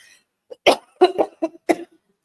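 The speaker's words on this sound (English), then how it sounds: "I don't know why I'm coughing so much." A close, loud fit of coughing, several harsh coughs in quick succession with short gaps, then trailing off into quiet.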